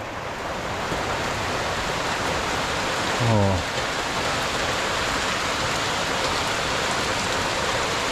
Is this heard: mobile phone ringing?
no